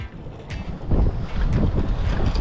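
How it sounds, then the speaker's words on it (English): Strong wind buffeting a fishing boat at sea, a steady roaring rush across the microphone with gusting swells, close and loud. "so much wind"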